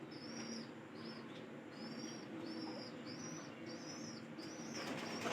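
A pigeon at its loft with repeated bright calls and a soft, low coo, while wings flap and rustle nearby in a quiet setting.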